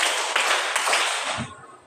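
Pupils in a classroom clap in unison as part of a counted clapping routine, a bright, dense volley of hand claps with a few sharper beats, thinning out and ending within two seconds.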